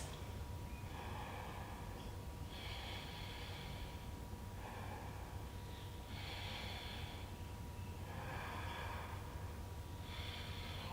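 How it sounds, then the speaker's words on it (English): Slow, deep breathing during a yoga stretch, with long airy inhales and exhales recurring in a steady rhythm over a constant low background hum, close and fairly soft, with no talking. "4 more deep breaths."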